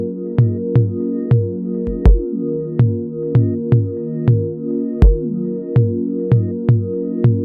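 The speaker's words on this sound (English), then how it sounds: "I did add this little tom thing in, just like a breakdown section before the final part" Tom drums roll through a breakdown section of an FL Studio beat, regular punchy hits with a couple of deeper pitch-dropping fills, set over sustained tonal chords, loud and free of any talking.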